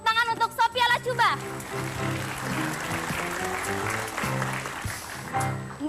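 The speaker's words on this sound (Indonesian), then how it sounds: "Tepuk tangan untuk Sophia Lacuba." A studio audience on a television talk show applauds a guest's entrance. A short burst of music gives way to sustained clapping that keeps some musical tones underneath, with voices mixed in.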